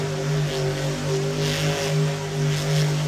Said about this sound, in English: Wildside kicking it into gear for this donut.